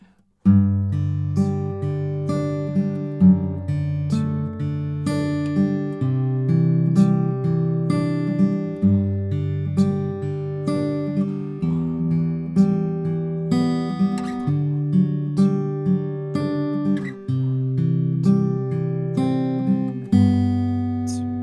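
Fingerpicked acoustic guitar plays the chorus of the Christmas carol The First Noel in a steady three-beat rhythm, plucked notes ringing over a bass line, close and clear with no voice.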